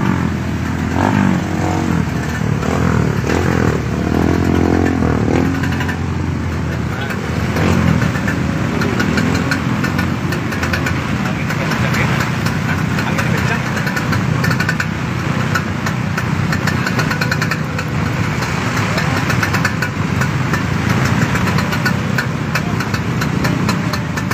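A motorcycle engine idles on a flooded street in Cilegon, a steady, fairly loud rumble that runs unbroken for the whole stretch, mixed with a broad wash of background noise.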